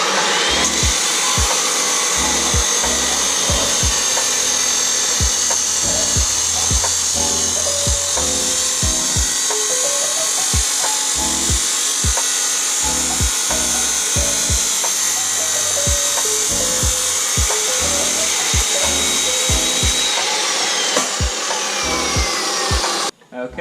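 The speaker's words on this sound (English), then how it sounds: "cold cut saw, so we're going to try our best to make this work and cut as much as possible" Cold cut saw slicing through a Mazda Miata exhaust downpipe, a steady loud grinding whine with rhythmic rasping strokes and clunks running throughout, close and continuous.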